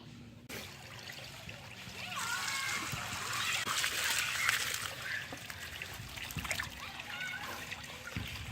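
Fish being released into a backyard pond, with water splashing and trickling at moderate loudness for several seconds, accompanied by low background sounds.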